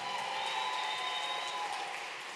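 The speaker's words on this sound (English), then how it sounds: "Give her a big round of applause." Crowd applause at a Parkway Steppers marching and step team performance, a steady wash of clapping heard from a distance, with a sustained tone running underneath.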